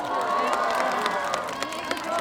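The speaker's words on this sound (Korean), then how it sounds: "총장님에게 다시 한번 큰 박수 부탁드립니다." Crowd applause and cheering at a university award ceremony on stage, a dense steady wash of clapping with shouts mixed in, fairly distant and sustained throughout.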